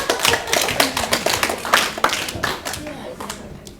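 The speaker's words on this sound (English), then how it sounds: "Let's give Brandon a massive round of applause." A small group of people clap for Brandon in a classroom game, with close, uneven claps that taper off, and voices heard amid the applause.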